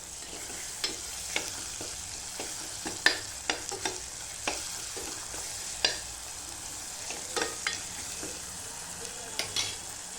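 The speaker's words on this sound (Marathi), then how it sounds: "आता हे चांगलं परतून झालं मसाला की मी त्याच्यावर टाकते मुगाची डाळ" Masala and moong dal being stir-fried in a pan, an even sizzle under frequent crisp scrapes and taps of a spoon against the pan, close and clear, with nobody talking.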